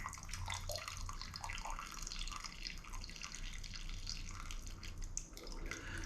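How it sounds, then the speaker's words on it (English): Steeping grain bag lifted from dark nut brown ale wort and left to drain back into the pot, a steady close trickle and splashing drips of liquid, no talking. "I'm just gonna let this drain really good."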